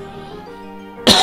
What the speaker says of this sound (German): Moment, kurz husten.